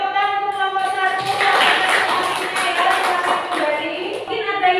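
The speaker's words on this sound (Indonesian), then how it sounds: "tepuk tangan untuk kelompok 1" A classroom group claps for the first presenting group: a short burst of scattered applause rising under voices and fading after a few seconds.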